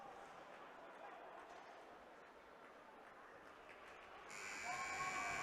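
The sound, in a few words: ice hockey period-end buzzer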